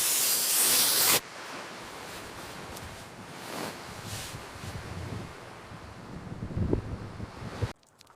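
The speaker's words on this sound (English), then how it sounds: "Every gust of wind sounds like the end." Gusts of wind blow against shredded tarps and a shelter built from abandoned pallets after an earthquake. A loud rush opens the clip, then a steady wash of blustery noise with swelling gusts and faint flapping continues, and it ends abruptly.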